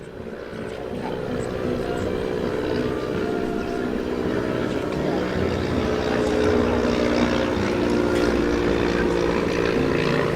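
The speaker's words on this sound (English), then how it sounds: "There's the little Booker flying past. He is off, he's a regular visitor. A little German training aircraft" A small vintage Bücker German training aircraft flies past overhead. Its propeller engine makes a continuous droning hum that swells slightly as it passes and stays moderately loud, without speech.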